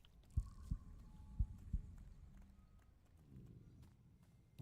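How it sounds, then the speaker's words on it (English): In a story-rich role-playing game, deep heartbeat thuds pulse in a few spaced, low, soft beats against a dim, hushed ambience, with faint metallic shackle-like rattling alongside. "Heartbeats and shackles?"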